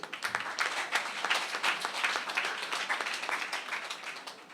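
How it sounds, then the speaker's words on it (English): Applause from an audience at a Labour Party gathering in Lagos: a dense, steady patter of many hands clapping, moderately distant and continuous for several seconds with faint voices underneath. "Clap for him, please."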